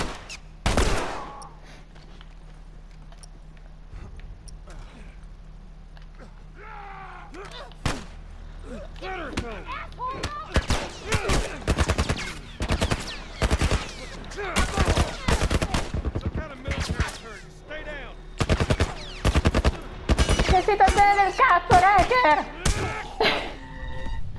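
Gunfire in The Last of Us, a burst of loud close shots near the start, then after a quieter stretch rapid repeated gunshots crowd together through the second half, with someone talking between them.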